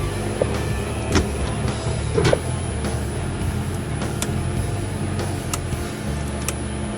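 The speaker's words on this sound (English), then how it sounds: "Compressor 2, compressor 1. She's booting up. It's a little loud in here," Chiller compressors starting up after a VFD replacement, a constant loud mechanical hum and drone with scattered clicks and knocks, no talk.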